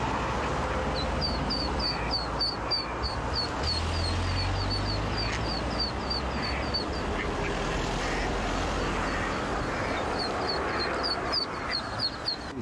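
A mother duck quacks repeatedly in quick bursts by a drain, loud and close, over a steady roar of passing traffic.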